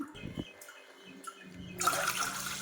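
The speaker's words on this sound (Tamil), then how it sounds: "நான் ரெண்டு டம்ளர் தண்ணி ஊற்றுறேன்" Water poured from a tumbler into a pot for ginger tea sweetened with jaggery. After a couple of soft clinks, a loud, hissing pour begins partway through and runs steadily to the end.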